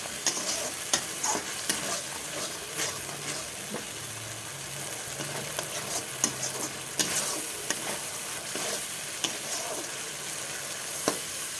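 Spice masala with turmeric frying in a pan sizzles steadily while a spoon stirs and scrapes, with sharp clicks of metal against the pan, close and continuous, no voices.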